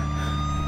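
A police siren in a VR driving video game, a steady wailing tone over a low engine rumble, loud and close for a brief moment.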